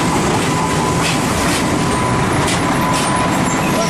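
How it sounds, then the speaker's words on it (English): A passenger train rolls through San Isidro de Heredia, Costa Rica, toward Alajuela, a loud, steady rumble with rhythmic clickety-clack of wagons and hissing rail noise filling the whole stretch close by. "the train coming in that's going through to Alajuela"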